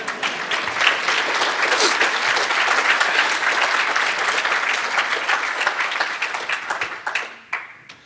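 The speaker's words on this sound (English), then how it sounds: "Let's clap." A conference audience applauds steadily and loudly after a successful live demo, sustained clapping that thins out and fades near the end.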